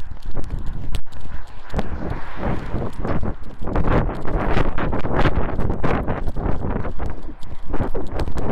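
Steady, rough wind buffeting a microphone during a run, with gusty rumble and crackle throughout and a rhythmic thudding underneath, no one speaking.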